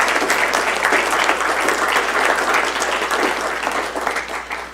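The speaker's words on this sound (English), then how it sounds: "Let's give them a round of applause." Steady, dense applause from the audience at a Desert Hot Springs city council meeting, many hands clapping at close range and tapering slightly near the end.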